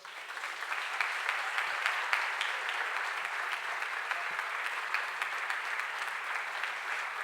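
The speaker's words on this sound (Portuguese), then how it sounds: "Aplauda o Senhor." A church congregation in Brazil applauds during a worship service, a dense, even wash of many hands clapping continuously at moderate level, heard from some distance.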